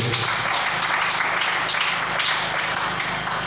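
A church congregation bursts into steady, sustained applause and acclamation for the Lord, a dense wash of many hands clapping at close range throughout.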